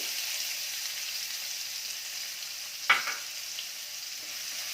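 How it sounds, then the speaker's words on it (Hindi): Finely chopped medium onion dropped into hot oil with crackling cumin seeds, a steady bright frying hiss with one sharp clatter near the middle as it goes in. "प्याज को भी 1 मिनट तक भूनेंगे।"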